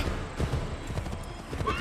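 Horse hooves clip-clopping at a gallop along with a neigh in Assassin's Creed 3, a fairly quiet and busy game scene with the hoofbeats close by over a low ambient background.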